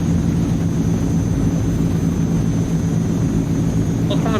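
AzurPoly C160 Transall twin-engine airliner in a flight simulator at full takeoff throttle, a loud, steady propeller drone with a constant high whine, unbroken throughout, with a faint voice briefly near the end.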